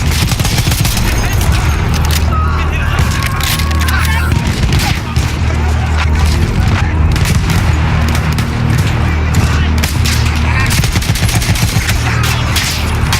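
Constant battlefield gunfire in Battlefield 1, dense bursts and shots layered over a low rumble of explosions throughout, loud and continuous, with a voice talking over it.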